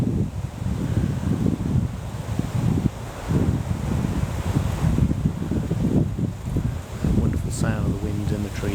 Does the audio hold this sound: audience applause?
no